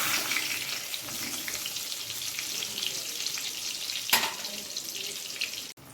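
Eggplant slices frying in oil in a pan, a close, steady crackling sizzle with a sharp bright flare near the end before a sudden cutoff, no voices.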